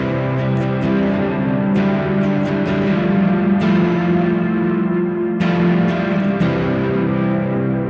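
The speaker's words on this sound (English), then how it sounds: "putting the reverb before the distortion is definitely like inspired by shoegaze" An electric guitar sounds through a reverb pedal placed ahead of a distortion pedal in a shoegaze manner, giving sustained, washed-out chords with a few sharp strummed attacks that blur into a thick, echoing drone.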